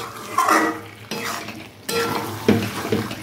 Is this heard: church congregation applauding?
no